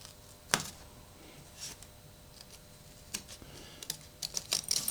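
Paper shapes being cut out with scissors, giving sparse, sharp snips and light rustles close by, growing busier toward the end, with no talking.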